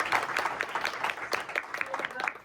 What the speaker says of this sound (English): Yes, clap again. Clap again.